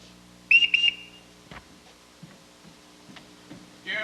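A ship captain's signal whistle blown in short bursts on a stage production, a double blast near the start, followed by faint footsteps and small knocks with no talking.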